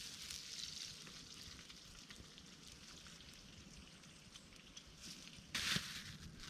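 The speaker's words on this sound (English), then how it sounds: "So now that we got all that bacon cooked off, looking lovely and crispy." Bacon sizzles in a pan at an outdoor solo camping spot, a steady soft crackle with a brief louder hiss near the end.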